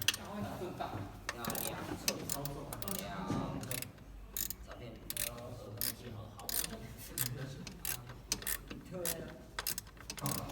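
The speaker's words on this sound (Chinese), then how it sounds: "我们再拿几根扳手来锁" Wrenches tighten the bolts on a car's compressor belt tensioner, producing repeated close ratcheting clicks and metallic scraping in irregular bursts, with someone talking at times.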